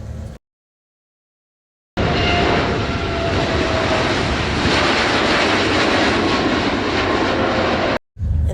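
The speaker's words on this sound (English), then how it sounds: "after 8 hours and 49 minutes of being in the air, it's time to land" Steady broadband roar of a jet airliner's engines on descent after a long flight into Raleigh-Durham Airport, loud and continuous inside the cabin, following a brief silent gap at the start.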